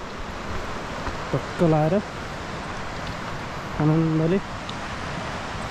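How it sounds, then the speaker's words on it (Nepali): A river flows below a steep mountain trekking trail in Dolpa, Nepal, giving a steady, soft rushing wash throughout, with someone talking over it. "तल चाहिँ खोला छ"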